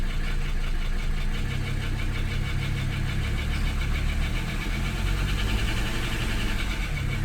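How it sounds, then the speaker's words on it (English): A Mercedes 300SD diesel engine with air in its fuel system idles roughly nearby, giving a steady knocking clatter. The throttle is opened slightly at points. "Give it a little bit of throttle here. Make sure we get rid of all the air that's in the system."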